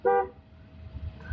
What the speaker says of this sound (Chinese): 低喇叭